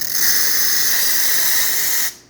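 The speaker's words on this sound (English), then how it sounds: "Nice strong steam." Steam wand of a Quickmill Vetrano espresso machine blasting a strong, loud, steady hiss at close range, cutting off abruptly near the end.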